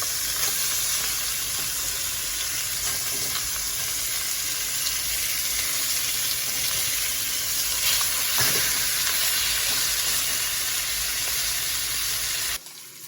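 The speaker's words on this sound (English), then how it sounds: "Once you've got a good sear on both sides" Pork chops searing in a hot pan, a steady loud sizzle and crackle of fat that runs unbroken for several seconds before cutting off abruptly.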